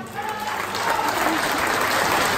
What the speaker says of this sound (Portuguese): Uma grande salva de palmas para a ex-vereadora Adília Candeias